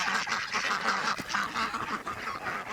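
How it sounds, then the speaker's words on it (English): Ducks and geese chasing a walker on a cross-country trek quack and honk continuously at close range, the calls overlapping in a busy, insistent chorus with no one speaking. "I'm getting attacked by birds."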